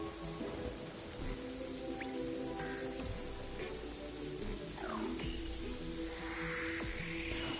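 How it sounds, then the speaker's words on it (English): Constant rain in the video game Terraria, a steady hiss of falling drops with scattered drips and small game sound effects layered over it, continuous and without speech. "this is a world where it's constantly raining."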